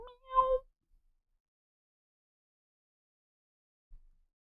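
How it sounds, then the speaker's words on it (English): A single short cat meow sounds near the start, followed by a long silence and one faint soft bump near the end. "Meow, meow."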